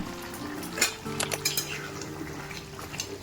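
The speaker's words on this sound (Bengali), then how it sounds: "সবগুলোকে সবজির সাথে একটু মাখিয়ে নিচ্ছি।" Spices being stirred into a potato and cauliflower curry in a pan, a utensil clinking and scraping against the metal in a few distinct knocks over a soft, steady background.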